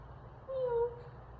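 A pet cat gives a single short, faint meow indoors, rising briefly above a quiet background hum.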